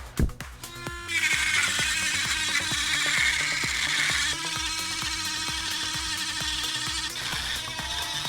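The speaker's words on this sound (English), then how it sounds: "that's all I'm doing with the Dremel" A Dremel rotary tool grinds a damaged wheel in a steady high whine, preceded by a few clicks and a short pause, continuing alone without talk.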